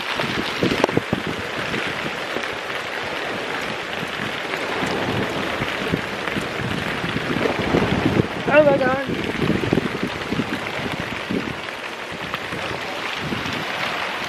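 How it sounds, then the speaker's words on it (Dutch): Steady heavy rain pours down on a beach in Aruba with gusty wind noise over it, and a voice briefly exclaims in Dutch in the middle. "Het regent zo hard, jongens."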